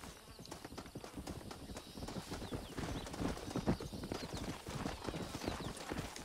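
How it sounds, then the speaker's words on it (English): Horse hooves clip-clop at a steady walking rhythm in Red Dead Redemption, moderately close with faint background ambience and no talk. "This is just a horse we found in the wild."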